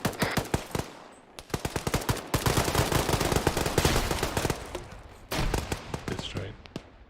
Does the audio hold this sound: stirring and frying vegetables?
no